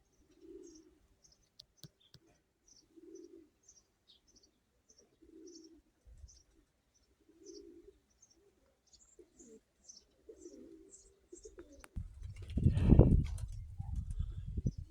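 Pigeons cooing softly at a steady rhythm, a series of low repeated coos with faint chirps above, ending in a louder burst of rustling noise up close.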